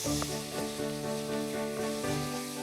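Meat browns in a hot pan with a loud, steady sizzle, and sharp spits and pops break through it. Soft background music plays underneath.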